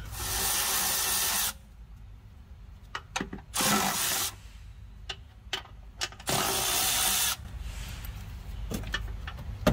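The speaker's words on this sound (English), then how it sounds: "let me grab a socket and get these hold downs off" Ratcheting socket wrench loosening car battery hold-downs, with bursts of clicking ratchet noise broken by quiet pauses and a few sharp metallic taps, close up with no talking.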